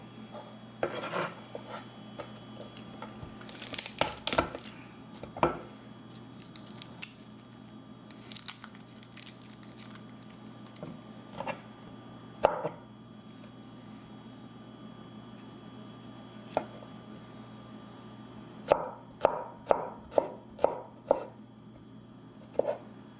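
Garlic being crushed with a pestle for aioli, a scattering of sharp crunching and grinding strokes, some isolated and others in a quick rhythmic run near the end, close and alone with no talk.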